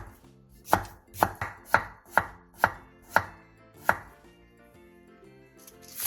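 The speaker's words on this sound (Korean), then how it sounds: "통 단무지를 길게 반으로 가른 뒤 먹기 좋은 두께로 썰어주세요." A knife slices a whole pickled radish (danmuji) into pieces on a cutting board. Roughly ten crisp, evenly spaced chops ring out close and clear, with no talk.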